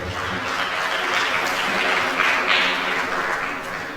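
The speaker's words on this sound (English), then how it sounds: "a very big round of applause" Audience at a university inaugural lecture gives a big round of applause: sustained dense clapping from many hands, moderately loud and even throughout, with faint voices mixed in.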